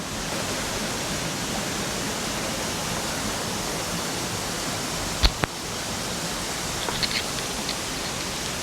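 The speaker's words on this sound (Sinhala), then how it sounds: "දැන් අපි ඉන්නේ Vivian waterfall එකේ යට" Vivian waterfall in New Zealand, heard from below, gives a loud, constant broadband roar of falling water, broken only by a couple of brief knocks near the middle.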